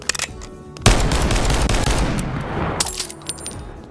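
Meme mod guns in the Bonelab VR game fire in a loud, sustained rapid burst lasting a few seconds, preceded and followed by scattered single shots.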